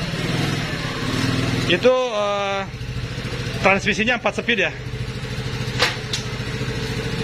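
A Honda Dax replica mini bike with a four-speed transmission idles and revs nearby, its steady engine drone broken by a few short throttle bursts, while people talk over it.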